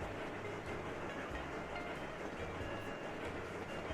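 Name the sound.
tram running on rails in video game Sweet Transit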